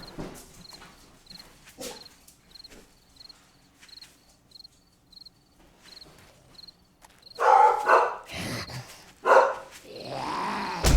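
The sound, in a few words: dogs growling in the video game 7 Days to Die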